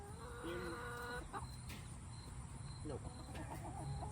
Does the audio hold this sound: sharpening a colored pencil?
no